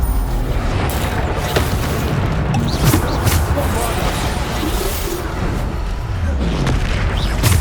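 Bombarda spell explosions in the Hogwarts Legacy video game, repeated booming blasts and bursts layered in dense, loud combat noise, with a voice talking over them throughout.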